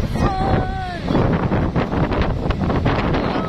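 Strong wind buffeting the microphone at the seaside, a loud continuous roar with gusty rumble, and a voice speaking briefly near the start.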